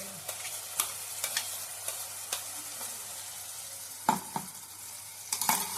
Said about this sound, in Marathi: आणि त्यासुद्धा ढवळून घ्यायचा, मस्तपैकी भाजून घ्यायचा